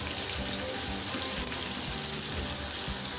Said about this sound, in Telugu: బాగా క్రిస్పీ అయ్యే వరకు కలుపుకుంటూ ఫ్రై చేసుకోవాలండి